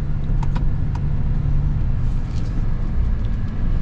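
Road rumble and tire roar from a 2022 GMC Sierra 1500 AT4 Extreme pickup on mud-terrain tires, heard from inside the cab as a steady, loud drone with a few faint clicks.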